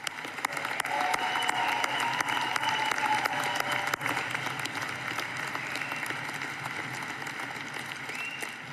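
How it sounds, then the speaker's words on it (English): Sustained applause from a commencement audience honoring department-level award recipients, a steady dense clapping that holds for the full stretch and eases slightly toward the end, with no talk over it. "would you please stand up so we can clap for all of you?"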